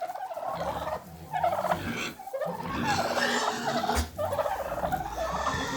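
A flock of farm turkeys gobbles loudly and excitedly in bursts as they are released from their pen, their calls overlapping close by.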